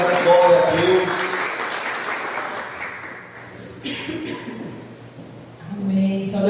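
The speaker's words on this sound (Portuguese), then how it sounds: "como nós recebemos uma calorosa salva de palmas" A church congregation at a morning service gives a warm round of applause that is loud at first and then fades, with voices and a few scattered claps trailing off before swelling briefly again.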